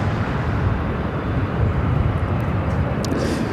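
A Southwest Airlines Boeing 737-800 arriving at LAX from Denver makes a loud, continuous jet roar, broad and steady throughout, with faint higher whistles near the end.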